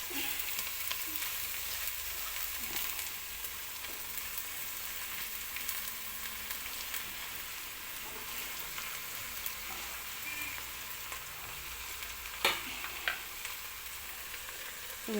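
Cabbage fries in a pan for a curry, giving a steady, close crackling sizzle throughout, with occasional soft scrapes and clinks of stirring.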